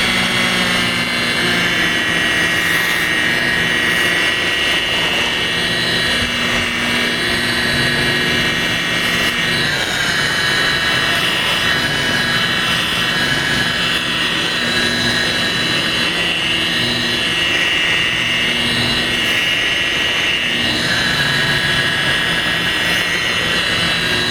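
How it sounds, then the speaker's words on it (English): A polishing buffer works on car paint during paint correction, giving off a loud, continuous whirring drone that holds steady throughout with small shifts in pitch. "You'll notice that I tilted my buffer"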